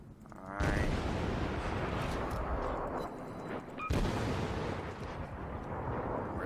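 A Russian destroyer's guns firing in World of Warships: two heavy booming salvos about three seconds apart, each followed by a long rumbling roar of the sea and engine.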